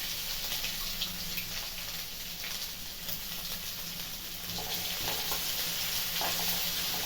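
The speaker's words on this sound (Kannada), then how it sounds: "ಜೀರಿಗೆ ಹಾಕ್ತಾ ಇದ್ದೀನಿ ಶುಂಠಿ ಬೆಳ್ಳುಳ್ಳಿ ಪೇಸ್ಟ್ ಹಾಕ್ತಾಯಿದ್ದೀನಿ" Cumin seeds and ginger-garlic paste fry in a hot pan, giving a steady, close, continuous sizzle with light stirring scrapes that builds slightly louder toward the end, with no voices.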